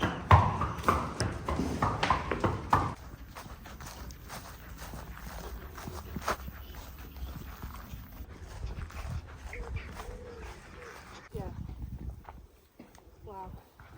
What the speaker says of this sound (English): leading your horse